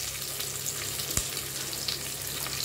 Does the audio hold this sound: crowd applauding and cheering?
no